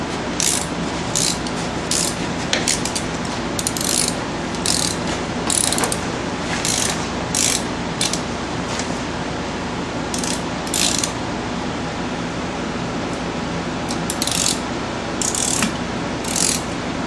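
Ratchet wrench tightening a bolt during a front brake repair on a 2002 Town and Country minivan: loud, close, steady clicking, broken by repeated sharp bursts of faster ratcheting over a noisy garage background, with no talking.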